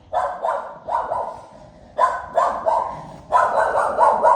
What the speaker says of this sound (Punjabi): ਘਰ ਦੇ ਬੰਦਿਆਂ ਨੂੰ ਇਹ ਭੌਂਕੀ ਜਾਂਦੀ ਆ